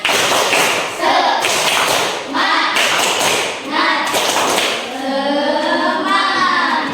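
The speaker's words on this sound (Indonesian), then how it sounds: "Coba tepuk semangatnya dulu ya. Tepuk semangat." A school class doing tepuk semangat, a rhythmic spirit clap: children clap and tap in quick patterned bursts, loud and close, with children's voices chanting along and rising toward the end.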